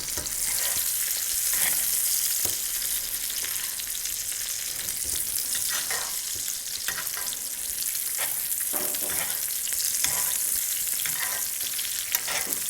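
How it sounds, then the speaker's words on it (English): A rack of lamb pan-roasts in butter with garlic and rosemary, giving off a steady, close sizzle and frying crackle with occasional stirring pops across the whole stretch, and no talking. "when the garlic and the rosemary hit the butter with the lamb roasting"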